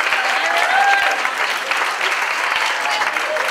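Loud, sustained crowd applause for the winner of a solo Charleston dance competition at a lawn party, a dense wash of clapping with cheers and voices mixed in.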